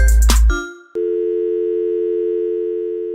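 A telephone hotline tone rings out as a steady, loud electronic tone that holds for a few seconds after a brief burst of other sound and a short gap.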